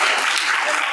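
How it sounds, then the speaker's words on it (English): Audience at a feminist literature panel at a literary festival clapping, a dense, steady burst of applause filling the whole moment at close range, with faint voices mixed in. "Clap."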